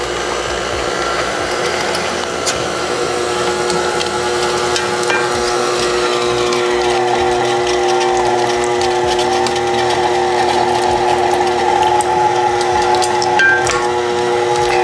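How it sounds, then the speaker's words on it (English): An electric meat grinder runs at a low speed setting, grinding meat for homemade breakfast sausage patties. A loud, steady motor drone with a whining mechanical hum carries on without a break. "go at like a number 2 rate to get the grind going"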